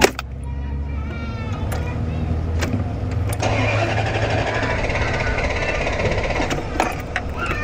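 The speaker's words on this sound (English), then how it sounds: "hold the accelerator all the way to the floor and start and keep cranking it" A van's engine cranks with the accelerator held to the floor to clear a flooded carburetor, a loud steady churning rumble with knocking that runs throughout while people talk close by.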